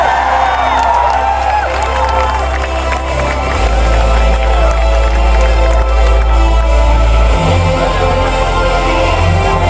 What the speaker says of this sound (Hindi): Let's have a big hand, ladies and gentlemen.